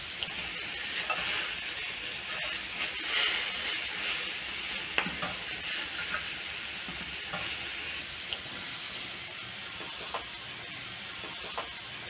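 Chicken skewers frying in a pan, a continuous hiss and sizzle with occasional soft clicks and knocks as they are turned, steady and close with no voices.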